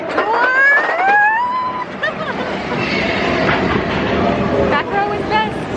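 A train ride at a Disney theme park rolls along with high wheel squeals and whistling tones over a rumbling, rattling carriage, with voices faintly present.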